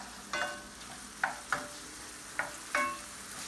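A pan of summer vegetable stew gets a gentle stir: five quiet, separate scrapes of a utensil against the pan over a faint background hiss.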